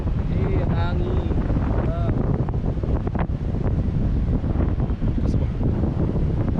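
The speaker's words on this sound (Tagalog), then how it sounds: "Ang hangin." Steady wind buffeting the microphone outdoors in Ortigas near Mega Mall, a loud continuous rumble throughout with faint voices talking underneath.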